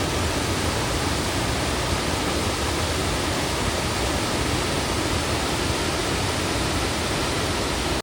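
The three-tiered Wei-Sawdong waterfall in Meghalaya, India, roars in a steady, dense rush of falling water that stays loud and unchanging throughout, with no voices.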